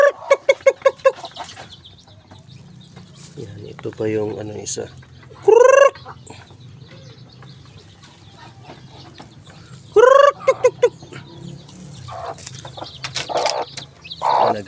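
Native chickens on a small farm cluck and squawk in short loud bursts, with a couple of sharp rising calls, while someone talks over and between them.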